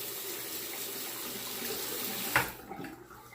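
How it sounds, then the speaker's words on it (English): Water running steadily into a bathroom sink before a wet shave, a close, continuous gush that cuts off abruptly partway through, leaving a few faint drips and gurgles as it drains. "I'm going to drain this water and wet the razor and get started."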